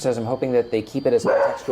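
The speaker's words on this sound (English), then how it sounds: "That's our dog you hear barking in the background." A household dog barks and yips in the background, repeated short barks scattered beneath someone talking steadily close to the microphone.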